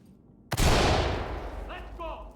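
A flashbang detonates in the tactical shooter Ready or Not with one sudden loud blast whose roar fades out over about two seconds as a voice starts shouting.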